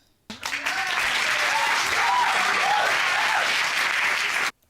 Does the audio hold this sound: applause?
yes